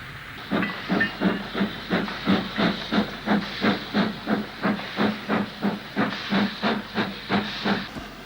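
British Railways Standard Class 4 steam locomotive 75037 chuffs over the points at Tebay No. 2 junction, setting off to bank a northbound freight up the incline to Shap, a steady, evenly spaced exhaust beat with hissing steam, close and loud throughout.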